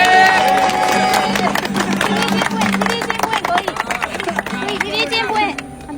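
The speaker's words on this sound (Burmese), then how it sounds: "အားလုံးကလေလက်ခုပ်တီးပေးမယ်နော်" Clapping and cheering from a small group at a surprise birthday celebration, loud and continuous with excited voices and talk mixed in throughout.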